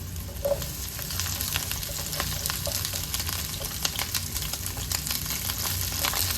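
Asparagus sizzles in a frying pan with a little oil, giving a dense, crackling hiss dotted with sharp pops that carries steadily throughout, close and fairly loud.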